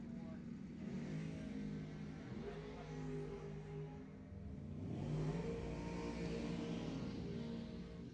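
Terry Benton's Camaro and Kevin Billets' dragster launching side by side at Lebanon Valley Dragway during NED Summit ET finals, engines roaring steadily and swelling louder midway, with crowd and announcer noise beneath.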